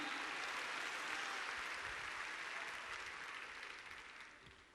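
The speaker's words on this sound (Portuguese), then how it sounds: "Pode aplaudir, gente." A congregation at a pastors' congress applauds in a sustained wash of clapping that holds steady, then gradually thins and fades toward the end.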